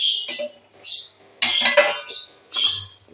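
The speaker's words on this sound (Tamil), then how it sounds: "இப்போ நம்ம மசாலா உப்புமா மூடி வச்சிடலாம்" Metal lid and pan clatter as a cover goes onto a pan of masala upma, several short clanks and scrapes in quick bursts, close and fairly loud.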